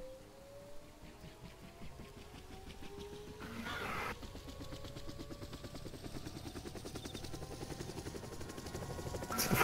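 Helicopter in the video game DayZ Overpoch, a steady thudding rotor chop with a whining engine tone that holds throughout and grows gradually louder toward the end.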